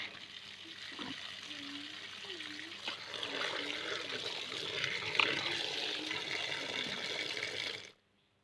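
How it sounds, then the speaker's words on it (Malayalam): Water runs steadily into a tub as household laundry is put to soak, a rushing flow that swells for several seconds before cutting off abruptly, with a faint low voice in the background. "അത് അലക്കാനുള്ളതൊക്കെ ഞാൻ ആദ്യം വെള്ളത്തിലിട്ട് വെക്കുന്നുണ്ട്"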